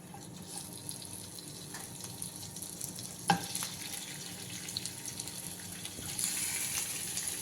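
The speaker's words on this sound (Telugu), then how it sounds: "ఇప్పుడు మటన్ ఫ్రై చేసుకుందాం." Mutton fries in hot oil, a steady soft sizzle and crackle at low level throughout, with one sharp clink partway through and a brief brighter hiss near the end.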